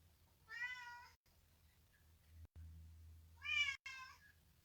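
A cat meows twice indoors, two clear calls a few seconds apart over a low steady hum, with a quiet gap between them.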